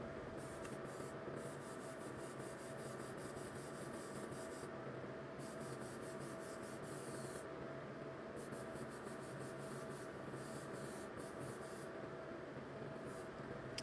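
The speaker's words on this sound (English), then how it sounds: "paint spraying much better, going down nice and smooth" An airbrush spraying semi-gloss black paint onto a 1/24 scale model car body hisses in steady bursts, on and off with brief pauses, close and fairly quiet.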